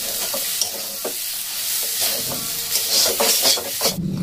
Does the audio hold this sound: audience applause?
no